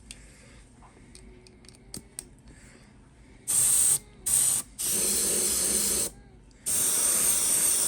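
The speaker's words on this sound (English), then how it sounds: "start spray painting them" An air hose sprays paint onto toy army figures in loud hissing bursts, four separate blasts of varying length after a quiet stretch with faint clicks and handling sounds.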